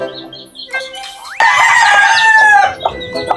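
A hen clucks loudly in a long, drawn-out run of calls, close by, with quieter bird calls before it.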